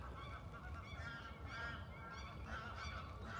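Geese honk repeatedly outdoors on a foggy, mild day, their calls overlapping in uneven bursts at moderate distance, with no talking.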